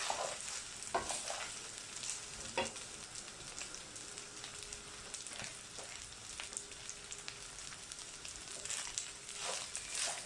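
Rice fries in a pan with a steady crackling sizzle, broken by intermittent scrapes and stirring clatters, and no one talks over it.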